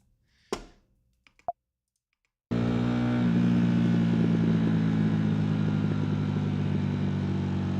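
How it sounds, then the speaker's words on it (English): Exhaust pops on the overrun come as a few sharp, isolated cracks and clicks over near silence, then a loud, steady engine drone takes over and runs to the end. "Those are pops on the overrun."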